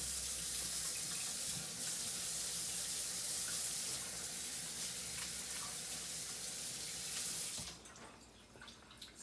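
Water runs steadily from a kitchen tap while hands are washed at the sink, a continuous close hiss that stops abruptly near the end.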